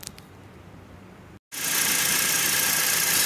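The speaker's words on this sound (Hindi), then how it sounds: "हमने गाड़ी स्टार्ट भी कर दी है" A car with a check-engine-light fault, being worked on for its engine control module, sits quietly before a brief silent gap. Then a loud, steady broadband idling drone takes over after starting.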